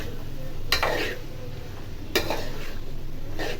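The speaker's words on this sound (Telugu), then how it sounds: "టమాటోస్ వేసి ఒకసారి కలుపుకొని మూత పెట్టేసుకోవాలి" Mixed vegetable curry with tomatoes cooks in a pan with a steady sizzle, while a spoon scrapes and stirs with a few distinct clinks against the pan.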